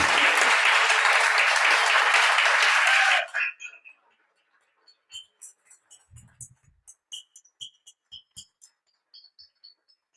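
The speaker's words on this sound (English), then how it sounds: "that could be record applause there" Loud, dense audience applause thanks three panelists at a community conversation on food justice and carceral systems, then quickly dies away, leaving a few scattered faint ticks and taps.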